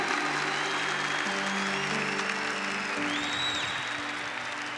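A church congregation at a Catholic Mass applauds at a priest's urging, a steady wash of clapping throughout with sustained musical tones running beneath it.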